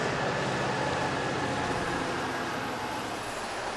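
Metra commuter train rumbling past behind a soccer field near Chicago's 31st Street, a steady, broad and fairly loud roar that holds evenly throughout with no talk over it.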